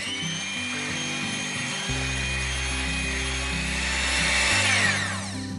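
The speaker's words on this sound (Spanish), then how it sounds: "y los vamos a batir." Four room-temperature eggs with a pinch of salt are beaten for an apple tart batter, heard as a steady, close mechanical whirring hum that holds for several seconds and rises slightly toward the end, with no talking.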